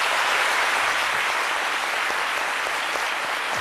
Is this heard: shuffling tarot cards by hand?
no